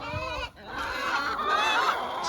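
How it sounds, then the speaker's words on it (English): Crowded chickens fill a noisy coop with continuous overlapping clucks and squawks, close and steady throughout. "Chickens."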